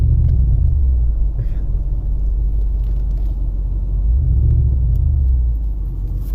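A 2001 BMW X5 4.4 V8 stuck in limp mode revs high, a steady loud low engine rumble droning throughout with slight swells in pitch and level.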